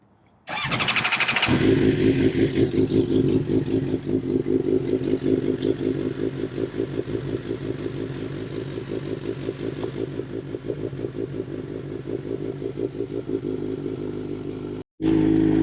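Suzuki GSXR750 motorcycle with a freshly replaced valve cover gasket cranks briefly, fires up loudly and settles into a fast, even idle, close and steady, then cuts out for a moment before catching again.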